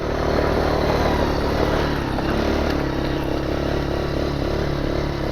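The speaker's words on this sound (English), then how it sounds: "And that's full throttle." A Can-Am DS 70 ATV engine held at full throttle, a steady buzzing drone with a little mechanical clatter, fairly loud and continuous throughout with no speech.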